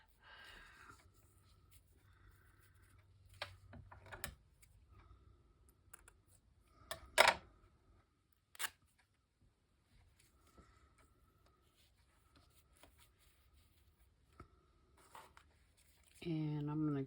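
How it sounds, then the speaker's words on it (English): A piece of script-printed fabric is torn by hand, giving a few sharp, short ripping bursts amid quiet handling noises, with a voice starting up at the very end. "So I'm going to rip it down to the size that I need."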